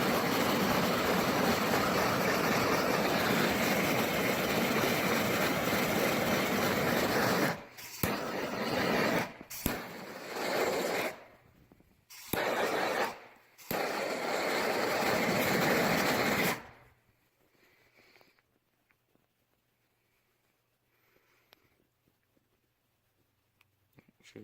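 A heat gun blows with a steady loud roar while shrinking tubing onto a motorcycle starter solenoid wire, cutting out briefly several times before switching off and leaving near silence.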